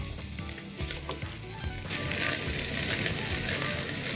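Rice being stirred in a pan with sauce and spices, a steady sizzle with scraping stir strokes that grows louder and brighter partway through, with no voices.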